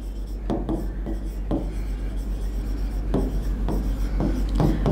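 Marker or chalk writing on a board during a chemistry lesson, heard as close, repeated rubbing strokes in short bursts over a steady low hum, with no talking.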